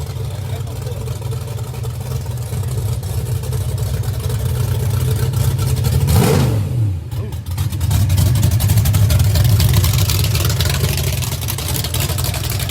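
A custom street rod cruises past at the 2020 Street Rod Nationals, its engine droning loudly as it approaches, sweeping by close with a clear pitch drop, then rumbling on amid steady traffic noise.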